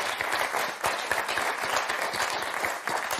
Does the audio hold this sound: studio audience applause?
yes